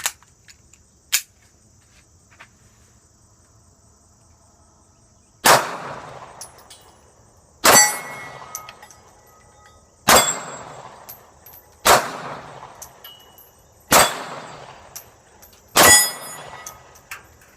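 A Beretta 84BB Cheetah pistol fires at steel plates outdoors on a warm summer day. Several sharp, loud reports come a couple of seconds apart, each followed by a ringing metallic clang and a short decay, with a few fainter ticks before them.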